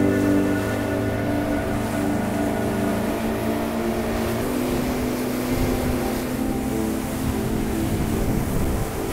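A small yacht or sailboat cruising across the sea off Los Roques, Venezuela, a steady droning engine hum with water rush, constant and close for about nine seconds with no talk.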